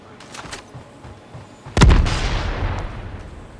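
A heavy grenade explosion in Call of Duty Mobile bursts suddenly partway through, preceded by a few faint pops, then a rumbling boom that slowly decays.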